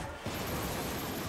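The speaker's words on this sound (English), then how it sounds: "Gunfire." Video-game gunfire in a dense, continuous burst of shots that starts abruptly and keeps going loud, a busy wash of blasts with no talk over it.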